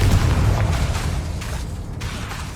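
A Confringo spell detonates in Hogwarts Legacy, a heavy low rumbling blast that is loud at first and slowly fades over a couple of seconds.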